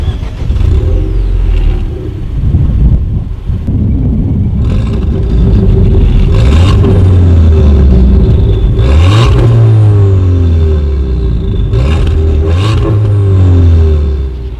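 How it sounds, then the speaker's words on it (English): A 2018 Ford Fiesta ST's sporty exhaust revs repeatedly, engine pitch sweeping up and down in several sharp bursts over a steady idle rumble, loud and close. "Here is that exhaust clip."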